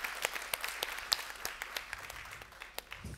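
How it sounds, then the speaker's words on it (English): A meetup audience gives a brief round of applause, scattered claps over a soft room background that thin out toward the end. "you can give a round of applause to Dom before we end this meeting."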